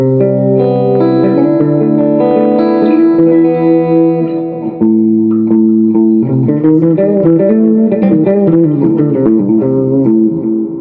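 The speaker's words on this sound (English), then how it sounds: "AC boost, AC 30." A Positive Grid Spark 40 amp set to its AC30 boost model carries an electric guitar through held chords and then busier picked runs, bright and crunchy with chorus and echo, loud and up close, no voices.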